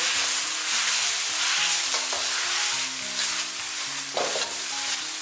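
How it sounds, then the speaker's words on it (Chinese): Cabbage leaves with vinegar sauce stir-fry in a wok: a loud, continuous sizzle up close with occasional scraping tosses of the spatula, and no talking. "白菜叶稍微炒软之后，再倒入我们调好的料汁， 然后继续给它翻炒均匀。"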